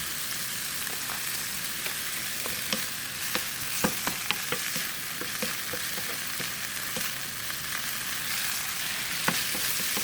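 Bitter gourd (ampalaya) with pepper frying in a pan: a loud, dense crackling sizzle runs throughout, close up, with frequent sharp clicks of a utensil stirring against the pan and no voices.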